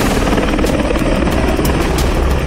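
A helicopter circles close overhead above a five-star hotel roof in Delhi during a security mock drill, its loud continuous rotor thud filling the whole stretch with no voices.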